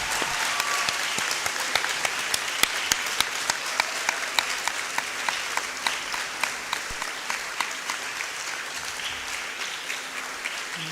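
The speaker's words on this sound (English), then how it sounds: "Now let's rise and give him a resounding round of applause." An audience rises and applauds after an inaugural university lecture, a sustained round of dense, even clapping from a large crowd throughout.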